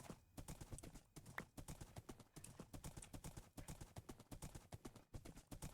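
Horse hooves clip-clop in a steady, rapid rhythm as a horse is ridden around a ranch in Minecraft, the even footfalls continuing throughout at moderate loudness.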